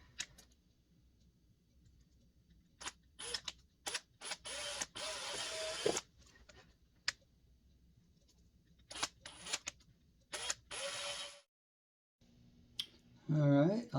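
Power drill boring two holes in a Harley Benton BM-75 guitar body, heard as a series of short, sharp whirring bursts separated by quiet pauses, with a brief voice near the end.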